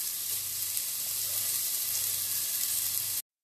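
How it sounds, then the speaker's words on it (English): Chopped onion and garlic sizzle and fry in a pan, sautéing before butternut squash goes in for soup. The steady, close hiss runs unbroken and then cuts off abruptly just before the end. "I'm gonna saute this off before I put my butternut squash in."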